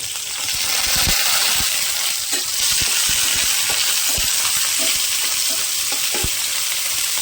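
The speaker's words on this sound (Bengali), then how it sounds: "পেঁয়াজটা প্রায় ভাজা ভাজা হয়ে গিয়েছে" Onions and green chilies frying in hot oil with bay leaf and dried red chilies, a steady loud sizzle with scattered spatters and soft clinks of a spoon against the pan, close by and without speech.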